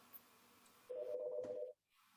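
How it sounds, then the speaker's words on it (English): A phone rings once in a single steady electronic tone lasting under a second, faint and close, in an otherwise quiet room during a virtual committee meeting. "As soon as I unmuted, my phone rang, of course"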